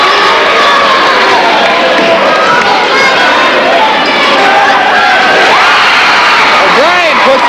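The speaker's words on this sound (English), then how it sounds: "Crowd calling for another foul." A basketball crowd in a high school gym roars continuously, shouting and whooping as they call for a foul, loud and dense, with a commentator's voice mixed in.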